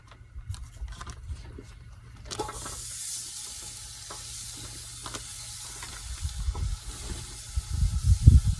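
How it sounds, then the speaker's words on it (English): Two pounds of ground hamburger meat frying in a pan, a broad steady sizzle that swells after a couple of seconds, with scraping stirs and clatters growing louder toward the end. "So we're going to start with 2 pounds of hamburger meat. Going to fry that up."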